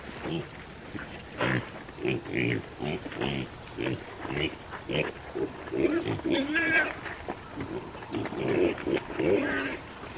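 Hungry pigs on a farm squeal and grunt loudly in repeated harsh bursts, close by, with overlapping calls throughout.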